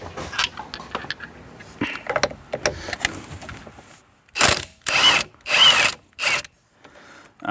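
Removing a 16 mm bolt inside a BMW 1M interior, a ratchet clicks in several quick, close bursts of rapid pawl rattling after softer handling noises.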